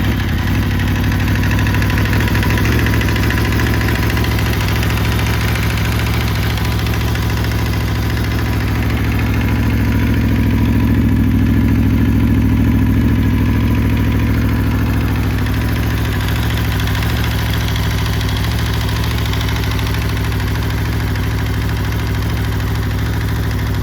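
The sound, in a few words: Aprilia RSV4 V4 engine idling with valve train clatter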